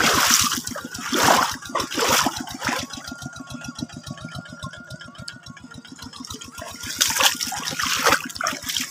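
Water runs and splashes in a rice paddy during a long dry spell, close and fairly loud, with a steady motor chugging beneath it the whole time.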